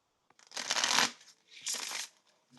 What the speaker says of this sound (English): I'm getting the cards shuffled now.